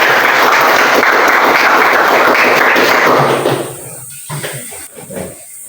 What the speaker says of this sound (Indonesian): kita berikan tepuk tangan untuk Baby